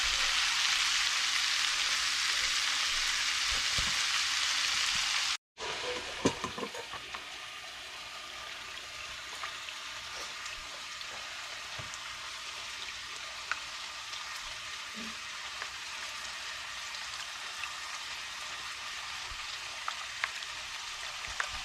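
Shrimp and potato in a coconut milk curry cook in a pan, a steady close sizzle and bubbling that cuts off briefly, then resumes quieter with faint scattered pops and clinks.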